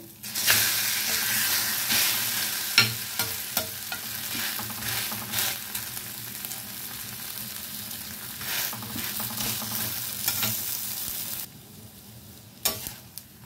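An egg-battered paratha fries in a hot pan with a steady, close sizzle, broken by soft scraping stirs and turns, and no voices.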